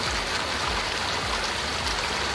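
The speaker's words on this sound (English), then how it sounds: "here's one of the pumps, the exit of the water." Pumped water gushes steadily from a pump outlet on a coastal landslide site, flowing back toward the ocean; a loud, continuous broadband rush with no breaks and no voices.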